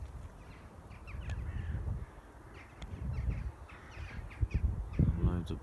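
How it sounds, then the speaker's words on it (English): Crows caw repeatedly at a distance over soft outdoor rustling, with several harsh calls clustering toward the end. "loads of birds."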